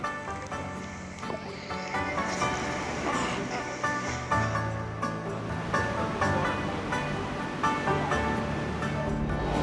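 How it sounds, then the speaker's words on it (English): Water pouring and rushing steadily at the base of a hidden waterfall in a Fijian rainforest, a loud continuous broadband roar with splashing texture throughout and no talk over it. "we arrive at the base of the hidden waterfalls"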